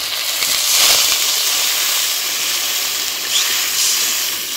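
Water poured into a hot, well-fried spice mixture in a pan for a Bengali jackfruit and prawn kofta curry, giving a loud, close burst of hissing steam and sizzle that settles into a steady bubbling hiss.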